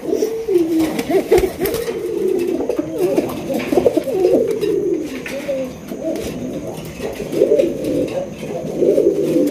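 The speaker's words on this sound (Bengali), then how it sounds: "এখানে রয়েছে আরো একজন রাজগোল্লা কবুতর, অস্থির কোয়ালিটি" Raj Golla pigeons at a loft coo close by, several birds overlapping in continuous rolling, throaty calls that swell and fade without pause.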